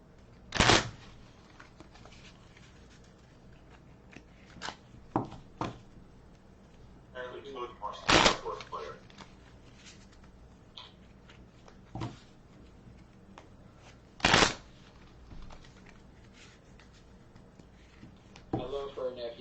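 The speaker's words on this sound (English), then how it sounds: "shuffle all of this in." Pandemic board game cards are shuffled in several brief riffling bursts spread over the span, close by, with quiet talk and faint background noise between them.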